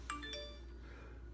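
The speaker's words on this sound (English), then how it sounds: "That's my phone." A mobile phone rings with a short electronic tone, bright stacked pitches sounding in a brief burst at the start and then fading, fairly quiet over a steady low hum.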